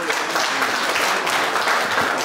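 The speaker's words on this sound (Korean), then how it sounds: "큰 박수로 맞이해 주십시오." An audience at a pan flute performance at a calligraphy exchange association event in China's Shandong Peninsula breaks into steady, dense applause, loud and continuous throughout with no gaps.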